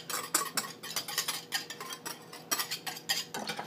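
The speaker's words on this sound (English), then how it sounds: "Stir that in." A spoon stirs chocolate ice cream base in a pot off the heat, scraping and clinking against the metal in a steady, brisk rhythm of close, bright strokes throughout, no voices.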